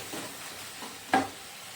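Spices with Kashmiri chilli powder sauté in oil, giving a faint, low sizzle with soft stirring and one brief louder scrape or clatter midway.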